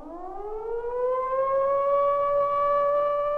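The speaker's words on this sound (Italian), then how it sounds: "Le sirene del posto centrale di avvistamento suonano per 3 minuti ad annunciare la liberazione di Milano" A civil defense air raid siren in Milan winds up and holds a steady, rising wail for the city's liberation, loud and continuous with no other sounds.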